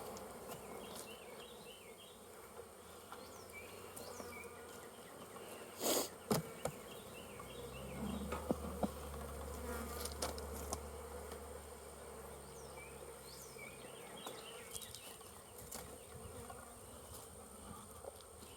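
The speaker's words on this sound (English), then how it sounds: "look at all the bees in here. Tons of bees." Honey bees buzz steadily inside a hive, a dense close hum with individual bees zipping past now and then and a few knocks.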